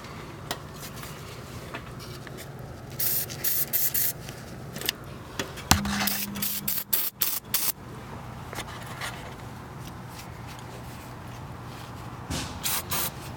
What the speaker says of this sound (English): These bolts are looking a little angry. Give them a little spritz.